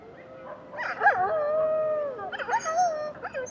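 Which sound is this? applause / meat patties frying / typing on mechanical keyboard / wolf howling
wolf howling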